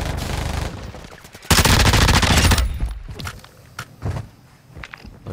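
Heavy automatic gunfire from a firefight in the video game Call of Duty DMZ, starting as a loud sustained burst, then breaking into scattered shots and impacts that sound nearer and farther away.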